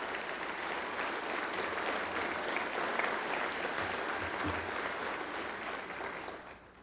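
Sustained applause fills a legislative chamber during a joint session, as the crowd welcomes Dr. Donna Ryan; steady, dense clapping holds for several seconds before tapering off at the end.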